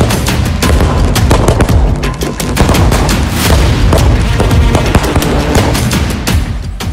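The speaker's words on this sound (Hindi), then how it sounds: "जब घर घर पटाखे फूट रहे होते हैं" Firecrackers bursting during Diwali celebrations: a loud, dense barrage of sharp bangs and crackles, overlapping and continuous throughout, with no speech.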